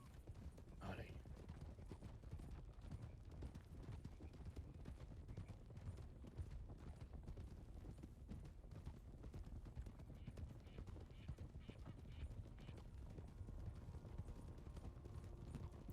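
A horse canters along a road in the Red Dead RP video game, its hoofbeats a fast continuous clip-clop running the whole time, with gunfire-like bursts and a brief whinny early on.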